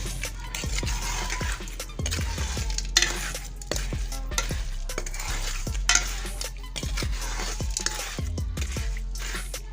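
Sugar and ghee for makhandi halwa are stirred continuously in a pan, each stroke a scraping, sizzling swish that repeats in a steady rhythm with occasional metallic knocks of the spoon against the pan.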